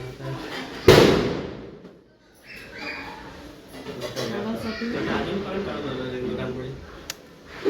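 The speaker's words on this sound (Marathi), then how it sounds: "फटाक्याचा आवाज" A firecracker bursts with one sharp, loud bang near the start during a Bhaubeej festival celebration at home, followed by a quieter stretch with people talking and another faint pop near the end.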